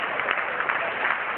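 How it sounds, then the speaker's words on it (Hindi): A seminar audience claps steadily and evenly, a dense wash of hands that fills the short moment without pause. "यस, आप इनकी तालियों से स्वागत कर सकते हैं।"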